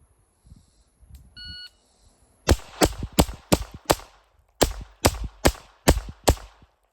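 A few faint electronic beeps from a shot timer open a timed pistol shooting drill, then two sharp strings of five loud pistol shots follow, evenly and quickly spaced and separated by a short pause, close and crisp.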